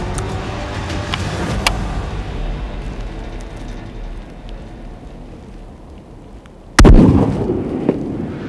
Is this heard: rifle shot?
yes